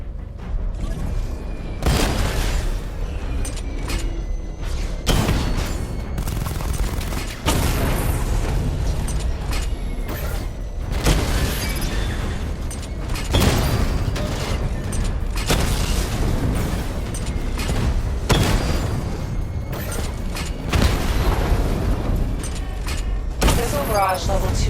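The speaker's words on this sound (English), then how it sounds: "Charge up missile barrage to level 2 and destroy 4 active targets to complete diagnostic test." Missile barrage explosions from the Batmobile in Batman: Arkham Knight, a string of heavy booming blasts that keeps going, loud and dense, with game voice lines over parts of it.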